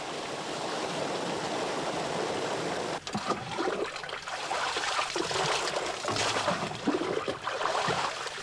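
A stream of water gushes in the Caldera de Taburiente, a loud continuous rushing flow that swells slightly after a brief dip.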